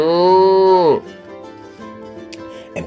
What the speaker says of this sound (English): Cows. They have 4 legs and horns and eat grass and carry pink bags of milk.